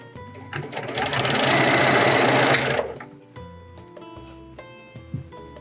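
A sewing machine stitches a seam on a grocery tote bag, running fast and loud in one burst of a couple of seconds. Softer clicks and handling knocks follow once it stops.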